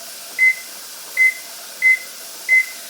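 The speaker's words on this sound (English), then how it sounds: "at this point I'm setting the timer for 10 minutes" A kitchen timer being set beside a pressure canner venting for chili, giving four evenly spaced short electronic beeps over a faint steady hiss.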